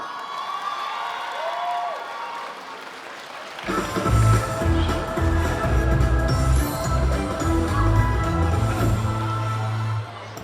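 Convention audience at a cosplay show breaks into applause and cheering for a costumed performer, a sudden swell of clapping and shouts that holds steady, joined by music playing underneath.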